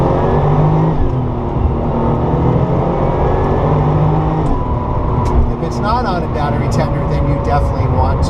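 A Porsche 993 Turbo engine drones loudly and continuously while driving, a dense low rumble with some rising tones, and a voice talks over it.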